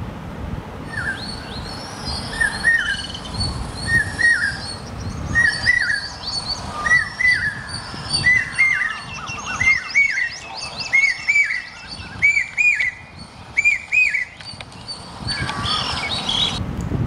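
A common hawk-cuckoo, the brain fever bird, calls over and over in a rising series of shrill, repeated whistled phrases, fairly near, with other birds chirping faintly in the background.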